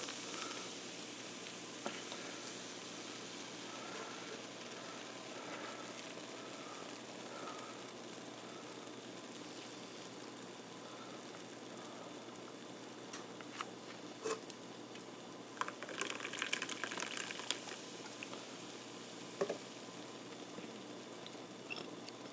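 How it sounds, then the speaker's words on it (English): A steady, soft fizzing crackle of carbonation from cucumber melon sparkling water runs throughout, with brief louder splashes and clinks partway through as it is poured. "you pour in the cucumber melon sparkling water"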